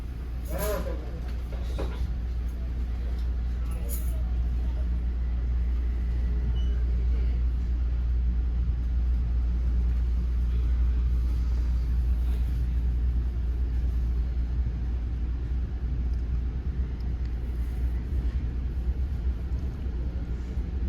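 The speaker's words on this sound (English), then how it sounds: "I'm sitting on the lower level of this double-decker car. You can hear the track sound better down here." Lower-level ride in an NJ Transit double-decker rail car: a constant deep rumble of wheels on track fills the whole stretch, with a few faint clicks and knocks early on.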